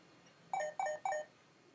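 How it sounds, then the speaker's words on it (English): Three short, evenly spaced electronic doorbell chimes, faint against a quiet room background with no talking. "That little sound must be her ringing the doorbell."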